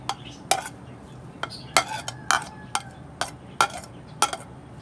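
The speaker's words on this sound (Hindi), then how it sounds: "इसको अच्छी तरह मिक्स कर लेंगे।" A spoon clinks and scrapes against a bowl in a steady rhythm of sharp knocks, close by, as a vegetable roll filling with coriander is stirred and mixed.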